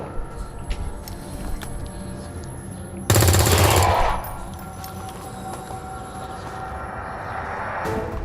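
A single loud burst of automatic gunfire from the video game XCOM 2 rips through for about a second, standing out sharply above a low, steady game ambience before fading back.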